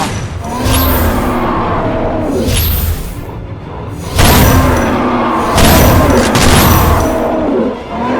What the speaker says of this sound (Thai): พะได้อาวุธพรานใหญ่ก็สาดกระสุนเข้าใส่อย่างไม่รีรอ